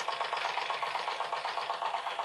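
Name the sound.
model stationary engine ticking over, driving Meccano pulleys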